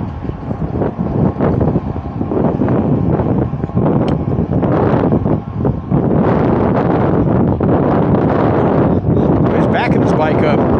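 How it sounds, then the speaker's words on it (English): Strong wind blows outdoors on a causeway, buffeting the microphone in loud, continuous rumbling gusts, with brief voices mixed in. "Windy."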